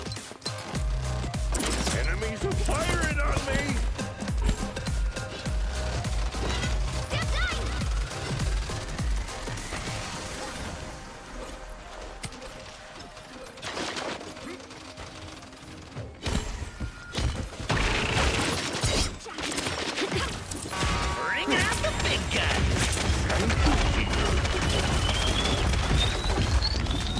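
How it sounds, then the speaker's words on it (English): Gunfire from enemies in the Paladins video game, bursts of shots with crashes and impacts coming in dense waves, a brief lull midway, mixed with game effects and a voice talking over it. "Enemies are firing on me!"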